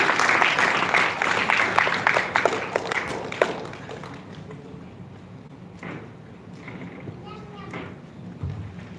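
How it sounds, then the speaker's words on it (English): An audience applauds a guest being felicitated, with dense clapping at first that thins into scattered claps, followed by shuffling, knocks and murmured voices nearby. "Ladies and gentlemen, a bigger round of applause for him."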